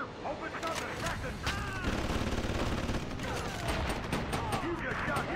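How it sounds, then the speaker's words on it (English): Rapid bursts of gunfire from GTA V fill a dense, chaotic soundscape, repeated shots and crackling volleys layered over constant game noise, with voices talking throughout. "You just shot him in the face."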